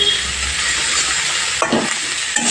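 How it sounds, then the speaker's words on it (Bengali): Broccoli frying in a pan over a medium gas flame, a loud continuous hissing sizzle that fills the whole clip, broken near the end by a couple of brief stirring scrapes. "গ্যাসের ফ্লেমটা মিডিয়ামে রেখে ভেজে নেব"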